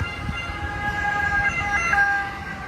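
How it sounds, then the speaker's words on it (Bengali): An ambulance siren wails on a street, its rising and falling electronic tones heard at moderate distance over low traffic rumble, no one speaking. "অ্যাম্বুলেন্স আসতেছে, দেখি কোন দিক দিয়ে অ্যাম্বুলেন্সটা আসে"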